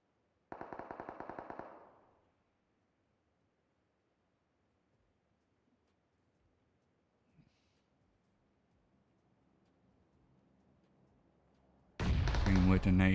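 Automatic gunfire in PUBG Mobile during a squad scrim: a dense rapid burst near the start, a long quiet stretch, then a loud sustained volley at the end.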